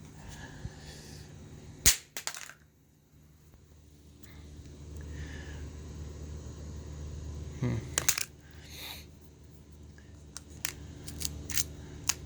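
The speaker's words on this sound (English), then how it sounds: "all these impacts make it sound like the camera's shattering" Several sharp, hard impacts of a Samsung Galaxy S3 phone hitting the ground in a drop test, separated by a low rumbling lull, with a rapid clatter of hits at the end.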